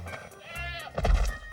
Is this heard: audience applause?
no